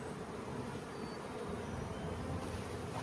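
A honeybee colony after a cutout gives a steady, dense buzz of many bees close by, unbroken throughout with no voices.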